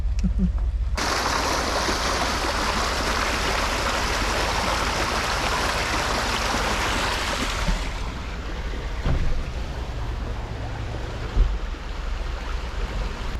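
A mountain creek flooded by a flash flood rushes hard and continuously, a loud broad churning flow that shifts tone partway through and keeps roaring to the end.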